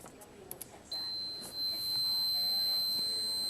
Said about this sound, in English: playing with your meter and just set it to continuity, which you just want this sound